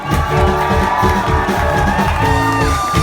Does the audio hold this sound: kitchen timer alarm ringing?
no